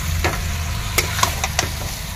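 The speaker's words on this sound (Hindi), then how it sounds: "अब इसको चिकन को सिर्फ भूनना है" Chicken pieces frying in oil with a cooked-down spice paste for chicken curry, a steady sizzle broken by several light clicks and scrapes of a spatula stirring the pan, no talking.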